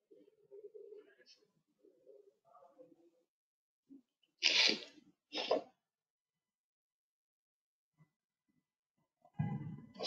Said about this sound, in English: if you want to hear my sneezing in between the lectures